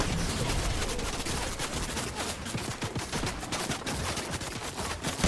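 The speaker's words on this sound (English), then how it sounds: "And still, there's more gunfire heading towards the Austin Hydra." Rapid bursts of gunfire in a battle royale shooter such as Apex Legends or Fortnite, a dense barrage of overlapping shots and automatic fire rattling continuously and loudly throughout.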